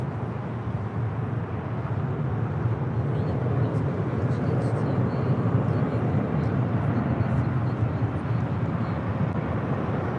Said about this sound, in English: Aeromexico Flight 646, skipping to Mexico City on a 787-9 Dreamliner, touching down on 25 left